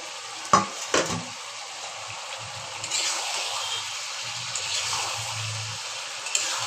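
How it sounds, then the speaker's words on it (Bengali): Fried potatoes and pointed gourd drop into a pan of chicken curry with a couple of clattering knocks, followed by a soft, low simmering sizzle with faint stirring. "এবার আমি দিয়ে দিব এই যে ভাজা আলু আর পটলটা।"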